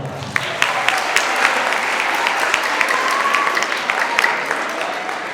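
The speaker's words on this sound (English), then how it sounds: "Let's give them a round of applause" A school assembly audience applauds the student club organizers, a loud sustained wash of clapping with a few sharper individual claps popping out near the front and faint crowd murmur beneath.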